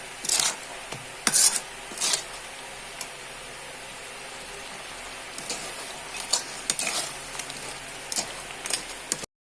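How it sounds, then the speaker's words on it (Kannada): Mangalorean-style crab curry, Tulunadu crab sukka, is stirred in a pan, making soft rubbing scrapes and a few louder clinks over a quiet, faintly bubbling background. "ಇಲ್ಲಿಗೆ ಒಂದು ಸ್ವಲ್ಪ ಮಿಕ್ಸ್ ಮಾಡ್ಕೊಳ್ಳುವ."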